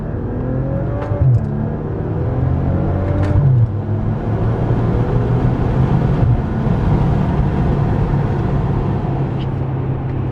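A 2014 Maserati Ghibli SQ4 in sport mode idles in first gear with its exhaust valves open, giving a steady, loud, deep rumble that holds evenly throughout.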